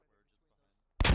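In the military shooter Squad, a frag grenade detonates suddenly after near silence, a loud, sharp blast with a rumbling tail cut off within a fraction of a second.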